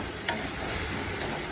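Ground cumin drops into hot oil, giving a soft, continuous frying sizzle with a faint crackle near the start; no voices over it.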